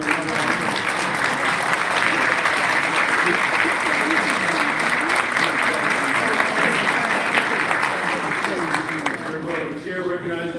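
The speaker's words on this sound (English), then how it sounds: "Let's give them a nice round of applause." Audience applause at a Chicago City Council meeting honoring UIC students: sustained, loud, dense clapping from a crowded chamber for about ten seconds before it tapers off near the end.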